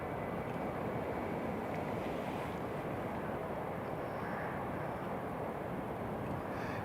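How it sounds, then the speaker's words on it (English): A British Airways airliner taxis toward runway 25 at Newcastle International Airport, a steady, broad engine rumble and roar that holds at moderate distance throughout with no pauses. "British Airways just taxiing along to runway 25 as well."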